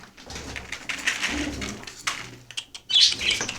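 Pigeons feed close at hand, with bursts of flapping wings and soft rustling, and a few chirps near the end.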